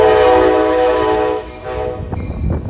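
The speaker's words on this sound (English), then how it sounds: "At the station 15 minutes before the train leaves." A loud train horn blares at the Sacramento Valley station shortly before departure, a sustained chordal blast that fades and gives way to rumbling, clanking rail noise nearby.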